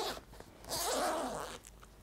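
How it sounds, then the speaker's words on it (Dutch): A zipper on the sun canopy of a Qute Q-Ultra Zero buggy is pulled in one close, rasping stroke lasting under a second, with faint handling rustles before and after. "die eventueel nog groter gemaakt kan worden door middel van een rits"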